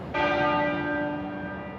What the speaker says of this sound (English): At the place where they were married, Westminster Abbey, the tenor bell started to toll at 6 o'clock this evening.